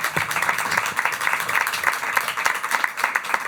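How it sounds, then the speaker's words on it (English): Dense, steady applause from an audience at the Afrovibes Festival, many hands clapping together in a continuous wash that holds evenly throughout without a break. "I would just give them a round of applause."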